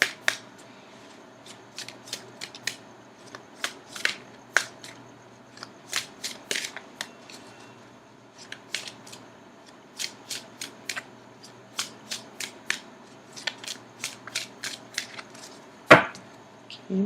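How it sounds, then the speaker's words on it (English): Tarot cards are shuffled and cut by hand in a run of crisp, riffling flicks and slaps that come at irregular intervals, close and fairly quiet, ending in one sharper snap near the end, with no talking. "I'm going to cut the cards."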